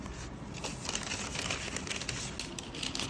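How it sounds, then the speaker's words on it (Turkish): Paper hotel laundry forms pushed into a plastic laundry bag, giving a steady close crinkling and rustling of plastic that runs throughout without pause. "diğer iki tanesini poşetin içerisine koyuyoruz"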